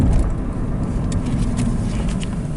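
A 2012 Nissan Versa with a suspected throttle or transmission fault, giving a steady whine over a continuous engine and road drone while driving.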